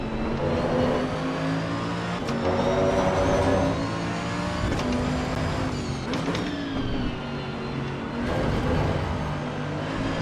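Race car engines roar in Assetto Corsa EVO, a loud, continuous, layered drone with rising and falling pitch as cars accelerate and shift during a race.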